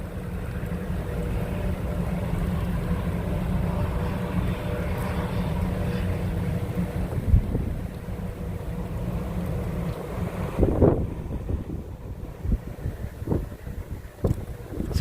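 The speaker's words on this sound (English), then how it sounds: "It's a windy day." Strong wind buffets the microphone on a snowy morning, a constant roaring rush with gusting swells and a few sharp knocks, close and loud.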